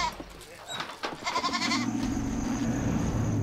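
Goats kept in a protective cage as lion bait at night bleat in a noisy commotion, several loud close calls layered together, with a person speaking over them.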